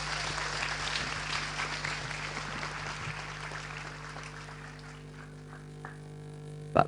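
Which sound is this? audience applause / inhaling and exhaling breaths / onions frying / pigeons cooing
audience applause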